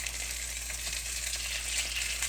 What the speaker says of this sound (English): now that our oxtails are searing up really nice